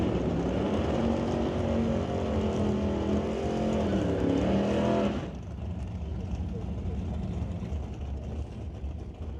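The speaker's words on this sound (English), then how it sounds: "Dragster gets to do the burnout first" A dragster doing its burnout at a drag race, a loud sustained engine roar with a rising, shifting pitch that cuts off after about five seconds, leaving a lower rumble and crowd noise.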